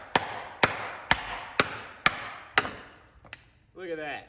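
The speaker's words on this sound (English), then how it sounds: "I could hammer that dent out" Six evenly spaced hammer blows ring out on a Volkswagen Atlas rear subframe part to knock out a dent, loud metallic strikes followed by a couple of lighter taps, then a voice speaks briefly.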